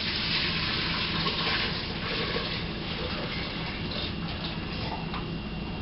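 Strained chicken broth poured back into a pot for matzo ball soup, a continuous splashing liquid stream, close and steady, without talking.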